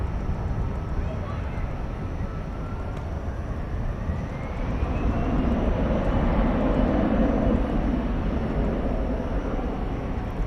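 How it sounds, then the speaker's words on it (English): An Airbus A320 jet at DFW Airport at night gives a broad, steady engine roar that swells slightly midway, heard at a distance with constant background noise. "Flight 2967, an Airbus A320."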